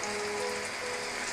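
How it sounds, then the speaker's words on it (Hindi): Shawarma rolls frying in a pan of hot oil, a steady, dense crackling hiss with no pauses, close and fairly loud throughout. "तो ये मैं इसमें रोल डाल रही हूँ।"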